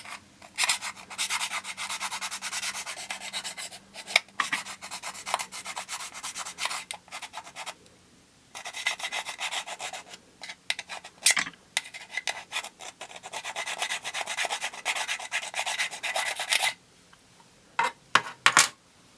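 A key scraping over the body of an iPhone 5S, rapid gritty rubbing strokes in long close bursts with a few short pauses.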